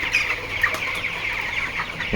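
Backyard chickens suffering from a cold give soft, high clucks. The quiet calls run against faint background noise, with no talk.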